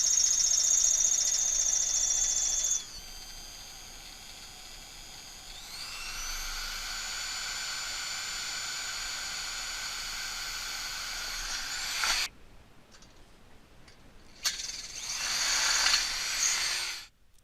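Power drill boring rivet holes through the aluminum fittings of a boom vang on an American Sail 14.6 sailboat, a steady high whine running several seconds, pausing, then resuming in shorter bursts, close and alone.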